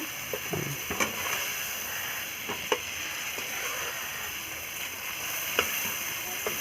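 Tiger prawns sizzle in oil in a pan, a steady close hiss of frying with a handful of sharp clicks and scrapes from a utensil, no speech.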